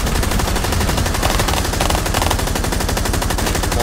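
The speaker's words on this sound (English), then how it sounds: "More of that heavy suppressive fire" Heavy suppressive machine-gun fire in Rainbow Six Siege: a loud, unbroken rapid stream of gunshots hammering on at an even rhythm for the whole stretch, with no voices.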